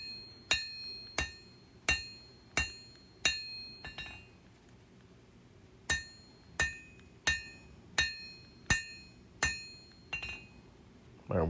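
Hammer blows forge the steel bevels of a bushcraft knife made from junk, in two runs of steady, evenly spaced strikes, each with a bright metallic ring, close and loud with a short pause between runs.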